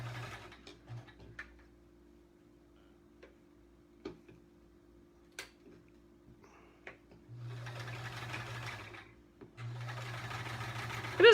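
Sewing machine doing free motion quilting of feathers near the edge of a sampler quilt: scattered ticks and clicks, then two sustained whirring, rapid-stitching runs of a few seconds each, close by.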